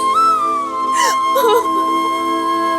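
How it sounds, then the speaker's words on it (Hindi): A woman cries and whimpers in a Hindi TV serial scene, her wavering sobs sounding over steady background music, loud and close. "रो मत"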